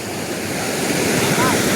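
High floodwater flows swiftly past in a steady, loud broadband rush that holds constant from start to finish, with no clear voices.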